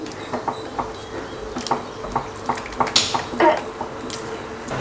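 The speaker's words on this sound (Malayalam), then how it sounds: "ഇനി ഇത് നന്നായിട്ടൊന്ന് മിക്സ് ചെയ്യാം. തടിത്തവി വെച്ച് ചെയ്താലും മതി." Wheat flour cookie dough being mixed with a wooden spoon in a bowl, giving a run of close, irregular scraping and knocking strokes with no talk.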